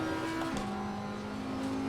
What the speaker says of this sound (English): I like the way it revs a bit higher than the Aston